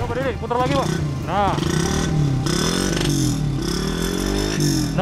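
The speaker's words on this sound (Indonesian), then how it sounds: "ini adalah salah satu knalpot yang di custom dari sepeda motor" A motorcycle with a loud custom racing exhaust revs repeatedly up and down nearby, its throaty roar rising and falling while people talk over it.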